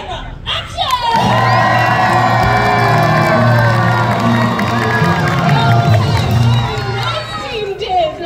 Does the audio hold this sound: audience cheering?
yes